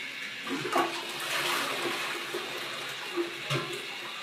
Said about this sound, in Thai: แล้วก็กดชักโครกใหม่อีกที